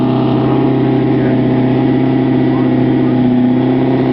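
A turbocharged, powder-coated VW Bug drag car at a Bug-O-Rama drag race, its engine droning steadily and loudly with a dense, buzzy mid-range roar throughout, no pauses or shifts standing out.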